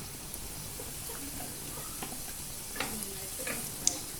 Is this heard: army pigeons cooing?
no